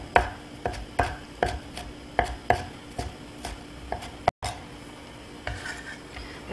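A knife slices ingredients for shrimp fried rice on a cutting board, about a dozen crisp, evenly spaced strikes, close and clear, with a brief gap near the end.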